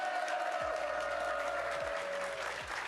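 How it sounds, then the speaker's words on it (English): A large crowd at a live esports watch party applauds continuously, a dense steady wash of clapping with a sustained tone running underneath. "Give yourselves a round of applause."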